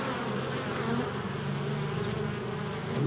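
Honeybees buzz at an open hive during a UK inspection ahead of winter, a dense, steady hum of many insects close by, with individual bees droning past and no talking.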